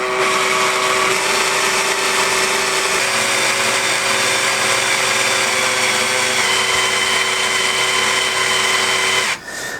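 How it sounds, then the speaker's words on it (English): An electric drill runs steadily at slow speed for almost ten seconds, a loud, even motor whine with a constant pitch that cuts off abruptly near the end. It is driven through a bit fitted to the end of a rack during assembly. "put a drill onto the end. You can do it with a hand drill, you can do it with an electric drill"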